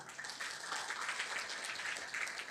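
A seminar audience applauds in a faint, distant wash of steady clapping that holds evenly for a couple of seconds, with no talk over it.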